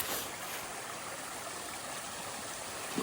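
A water cascade beside a trail rushes in a steady, loud, broadband roar that stays even from start to finish. There are no voices over it.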